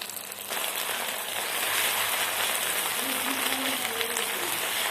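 Chopped tomato, ginger paste and whole cumin frying in hot oil, a loud continuous sizzle and crackle that holds steady throughout.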